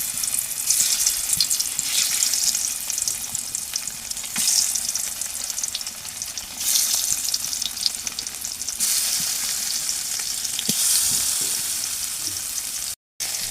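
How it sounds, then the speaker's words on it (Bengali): Fish rubbed with salt and turmeric frying in oil, a loud, continuous close crackle and sizzle with occasional stirring, running unbroken for over ten seconds and then cutting off briefly near the end. "আমার মাছগুলো ভাজা হয়ে গেছে"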